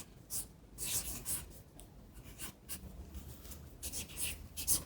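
A pen writes on paper with quick rubbing, scratchy strokes in short bursts. The strokes are close and fairly quiet, and no one talks.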